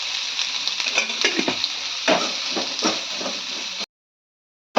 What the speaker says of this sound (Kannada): ಥೋಡೆ ಎಣ್ಣೆ ಹಾಕೊಂಡು ಹುರ್ಕೋಬೇಕು ಫ್ರೆಂಡ್ಸ್. ಚಂದ ಗೋಲ್ಡನ್ ಬ್ರೌನ್ ಕಲರ್ ಆಗೋವರೆಗೂ ಹುರ್ಕೋಬೇಕ್ರಿ.